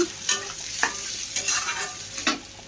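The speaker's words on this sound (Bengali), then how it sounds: "এদিকে মাছের চালের জন্য পেঁয়াজ ভাজা করছি" Onions fry in a pan for a fish-and-rice dish, a close, continuous sizzle broken by several sharp scraping stirs of a spatula.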